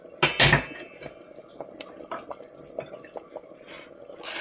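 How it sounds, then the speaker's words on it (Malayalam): A metal spoon stirs Kerala sambar in a cooking pot, starting with a sharp clatter against the rim, then continuing as a string of light clinks and scrapes with a faint background hiss. "ആവശ്യത്തിന് ഉപ്പ് ചേർത്ത് ഒന്ന് ഇളക്കി കൊടുക്കാം."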